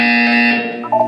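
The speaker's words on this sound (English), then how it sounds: "You will hear a buzzer." Buzzer in the Portal 2 video game: one loud, sustained electronic tone with a harsh harmonic edge, shifting pitch slightly near the end, heard alone.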